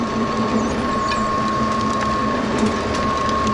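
Continuous mechanical drone of a conveyor and belt-driven machinery with new pulleys and belts running steadily, with a constant hum and a rattling, clattering texture throughout.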